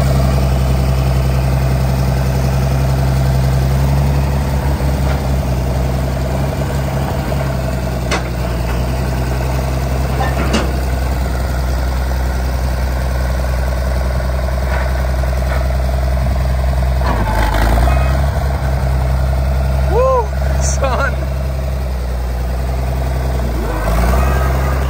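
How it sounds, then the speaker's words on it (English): Tractor engine idling steadily while being unloaded, a continuous low diesel rumble close by, with faint clanks and occasional background sounds over it. "Let's get this tractor unloaded."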